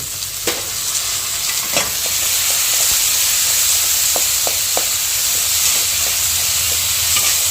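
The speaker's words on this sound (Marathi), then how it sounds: "आपण बघू शकता आपलं भाज्या छानपैकी परतलेल्या आहेत कांदा टमाटा शिमला मिरची" Onion, tomato and capsicum frying in a pan for a vermicelli dish, giving a loud, steady sizzle throughout with scattered clicks of a spoon stirring, and no voices.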